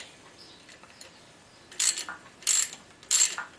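A quarter inch hex driver working a bolt out of a Dana 30 front axle on a Jeep CJ, heard as three close, bright ratcheting bursts, each about a third of a second, spaced apart.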